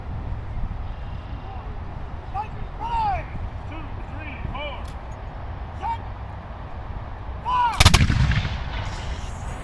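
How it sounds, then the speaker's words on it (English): Black powder muskets fire at a historic battle reenactment at Fort York, Toronto, with distant bangs rolling over an outdoor crowd where voices and whistles carry, then one loud close shot near the end. "These weapons are all black powder. They're using black powder to shoot."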